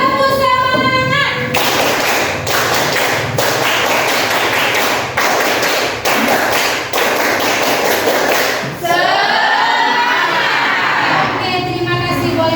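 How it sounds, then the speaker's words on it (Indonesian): An audience claps in a rhythmic spirit-clap pattern, loud dense percussive claps in steady bursts with short pauses, indoors at a training session, with a voice talking briefly at the start and end. "Oke, tepuk semangat."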